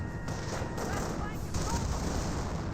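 Rifle and infantry gunfire in the World War II strategy game Company of Heroes, a steady wash of scattered shots and bursts running under a commentator's voice throughout.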